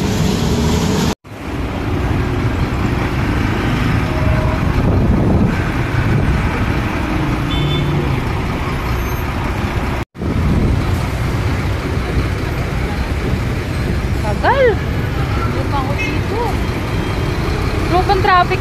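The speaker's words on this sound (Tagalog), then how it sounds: "Sobrang traffic talaga ngayon dito." Busy road traffic in a Philippine city, a steady broadband rumble of passing vehicles lasting throughout, with people talking over it and two brief dropouts.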